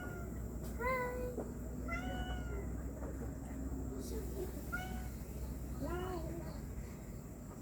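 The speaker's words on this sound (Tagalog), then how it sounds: "Hindi, may pusa." A cat meows several times nearby outdoors, with a few short rising-falling calls spread over several seconds above a steady low hum, while people speak faintly in the background.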